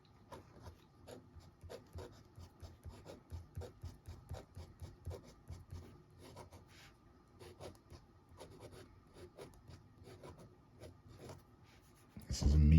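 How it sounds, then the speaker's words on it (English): A Sheaffer Award fountain pen with a medium nib scratches across paper in quick, repeated strokes, soft and close, with a brief louder rustle at the very end. "So let's do a writing sample for you."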